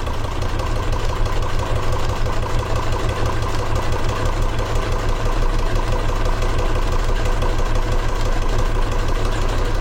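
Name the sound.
sewing machine stitching down fabric webbing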